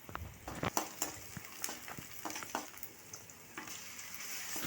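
Ginger garlic paste frying in a pan with onions and green chillies for an okra masala curry, giving a soft, steady sizzle broken by sharp clicks and scrapes of stirring.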